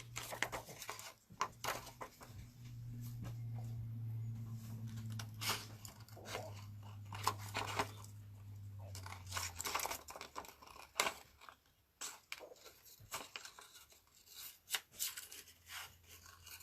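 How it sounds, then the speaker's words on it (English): Scissors trim around a handmade shaker card in irregular bursts of crisp snipping and paper crinkling, close and fairly quiet, with a low hum in the background for the first half. "So all I did was trim around it."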